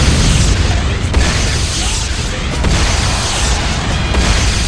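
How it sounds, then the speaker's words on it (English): A GDI power plant blows up in the Command & Conquer Renegade game, with loud, heavy booming blasts and crashes rolling one after another, dense and close over a rumbling low end. "Warning, GDI power plant destruction imminent. GDI's power plant destroyed."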